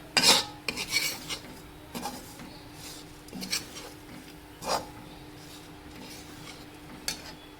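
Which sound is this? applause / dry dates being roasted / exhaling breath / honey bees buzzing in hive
dry dates being roasted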